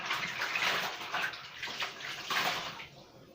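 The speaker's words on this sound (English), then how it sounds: "Then I'm going to use warm water and a towel just to wipe off." Warm water runs from a tap into a basin for washing the face, a steady splashing flow that swells and eases before tapering off at the end.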